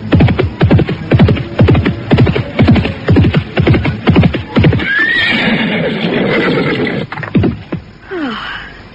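Several horses trot with a steady, loud clip-clop of hooves, then one neighs in a long whinny as the hoofbeats fade, followed by another short neigh near the end.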